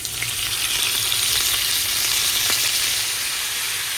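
Salted chicken thighs and drumsticks sizzle skin side down in hot oil in a crowded pan, a loud, steady hiss and crackle that stays close and continuous throughout.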